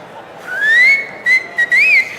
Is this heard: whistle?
yes